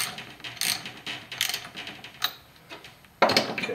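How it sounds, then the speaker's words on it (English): A ratchet clicks rapidly as it turns a 16 mm socket on a rear shock bolt of a Pontiac G6, with short bursts of close, crisp pawl ticks separated by brief pauses. "you're going to take your 16 millimeter socket, you're going to put it on there like so"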